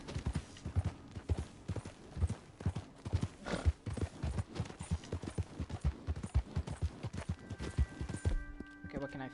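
Horse hooves clip-clopping in Red Dead Redemption 2, a steady rhythmic run of close, loud hoofbeats at a trot across the whole stretch, with a brief whinny-like tone near the end.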